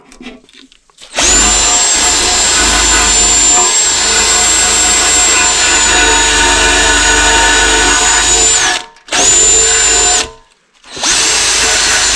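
A power drill with an attachment scrubs old gasket maker off a part during repair work on a 2009 Jeep Grand Cherokee 4.7. Its loud, close, high whine runs continuously, with two short stops near the end.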